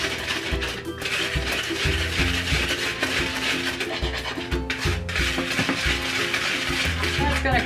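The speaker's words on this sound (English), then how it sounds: "we're going to whisk this all together so it's all mixed up" A whisk stirs dry chocolate pancake ingredients, flour with a pinch of salt, in a bowl, giving a steady, close scratching and rubbing with rhythmic scraping against the bowl throughout.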